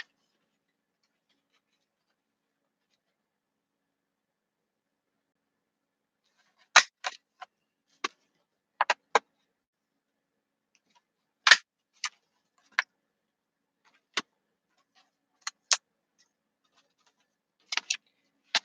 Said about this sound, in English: So we're going to cut the thumb holes in them.